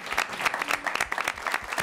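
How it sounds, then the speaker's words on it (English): A theater audience gives a round of applause for the panelists and actors: brisk, close clapping with distinct individual claps, full and continuous over the short stretch, with no talking. "I just want to thank our panelists and our actors with one long round of applause"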